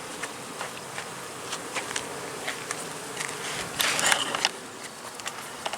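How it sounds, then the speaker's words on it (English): Honeybees buzz around an active, crowded hive outdoors, a soft continuous hum with individual bees droning past the microphone now and then, one passing louder and closer near the end. "there's a good amount of activity there. Lots of bees, lots of foraging"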